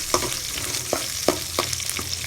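Sliced large onion sautés with chillies for raw mango rice, a close crackling sizzle punctuated by several sharp scrapes of a spoon stirring the pan.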